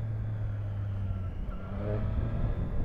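Motorcycle engines, a Triumph Street Triple 660 S and a Honda CB650R, rev together in a steady, close drone that swells slightly toward the end, with no voices over it.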